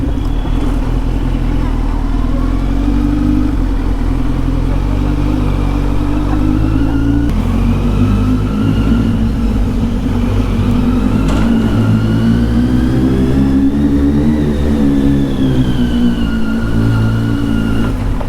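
Kawasaki Z900 motorcycle riding through traffic, a steady engine drone with rising and falling revs continuing throughout, mixed with surrounding road noise and faint background voices.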